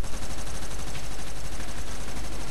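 Continuous automatic gunfire rattles through a first-person shooter match during a Danish free-for-all game, a dense, loud burst of rapid shots sustained across the whole moment with no voices.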